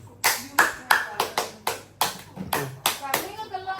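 Several people clap hands at a three-year-old's birthday gathering, a quick run of close, sharp claps with a voice and chatter mixed in.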